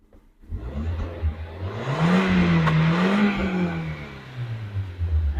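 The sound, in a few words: Hyundai i10 Magna engine running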